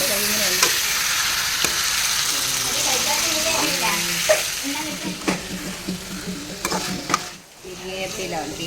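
Sliced tomatoes fry in hot oil for a Kerala-style trevally fish curry, a loud continuous sizzle broken by spoon scrapes and clinks against the pan, easing briefly near the end.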